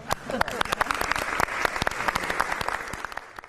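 Studio applause on a Korean political news talk show, a steady flurry of sharp claps from a few people, close and lively, lasting several seconds with faint voices underneath.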